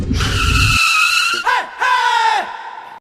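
A car skids to a halt with loud tire squeal, a sustained screech that breaks off briefly and then returns in a second long skid before fading, close and loud, with no talk over it.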